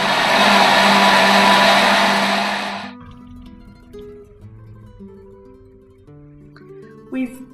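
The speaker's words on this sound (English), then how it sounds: "We've pureed our vegetables in the blender and we've poured everything across into this bowl." A blender purees chopped vegetables for gazpacho in a loud, steady whirring roar that runs for about three seconds, then cuts off abruptly into a quiet kitchen with a faint tonal hum.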